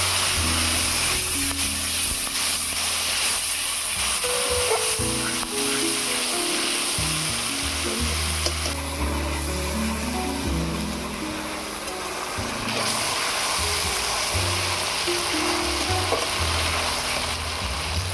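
Ginger-garlic, onion and tomato paste hisses and sizzles loudly in hot oil with whole cumin, nigella and fennel for a potol korma, a dense, steady frying noise alongside scraping and stirring, with low hum underneath.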